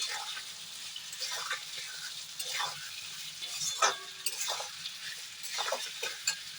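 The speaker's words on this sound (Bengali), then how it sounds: "আদাটা যতক্ষণ না একটু গন্ধটা যায় আমি নাড়তে থাকবো।" Ginger paste, tomato paste and raisins are stirred in a pan, giving soft, irregular sizzling and scraping strokes of a spoon at close range, with no one talking.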